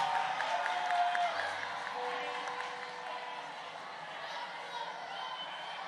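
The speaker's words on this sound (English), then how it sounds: "Give yourself the biggest round of applause!" Crowd at an international boys' Torah-knowledge contest event claps and cheers in a broad, steady wash of applause, with a few whoops and a brief voice over the top early on.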